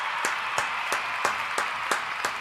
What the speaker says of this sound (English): We'll give him another round of applause